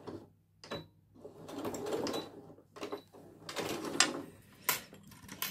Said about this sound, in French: Et je finis ma surpiqûre.